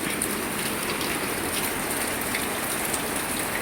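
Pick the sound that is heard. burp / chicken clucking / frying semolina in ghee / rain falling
rain falling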